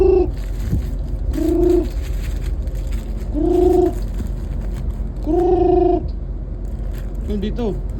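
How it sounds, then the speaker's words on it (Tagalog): A hybrid racing pigeon coos up close in a string of loud, drawn-out calls, about four or five rolling coos spaced a couple of seconds apart over low background noise. "Hybrid na kalapati ito, pang karera to."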